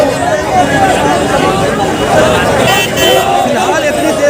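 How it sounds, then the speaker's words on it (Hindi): Dense crowd babble from a large gathering around a bulldozer in Shaheen Bagh, many overlapping voices filling the air steadily and loudly, with a reporter speaking over the hubbub. "कितनी ज़्यादा भीड़ है।"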